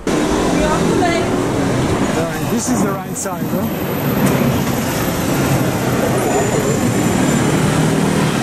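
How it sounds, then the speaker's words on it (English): Steady loud rumble of a tram rolling along rails through the streets of Lisbon, with a brief squeal, while a person speaks over the noise. "we took the famous tram to cross the city"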